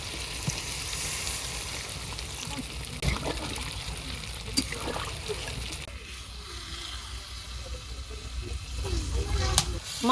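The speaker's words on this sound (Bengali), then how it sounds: "আর একটু পানি দিয়ে দিম জলের লাগিয়ে।" Water poured into a pan of sizzling egg and potato in a village kitchen, the frying hiss flaring and bubbling as the water hits, with a steady crackle throughout and brief clatters near the end.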